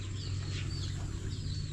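A mother hen on a farm clucks softly and continuously over a steady low hum, close by, with no voices.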